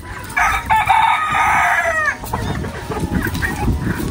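Chickens being fed give out a loud, close rooster crow lasting over a second, followed by scattered clucks and busy rustling and scratching noise.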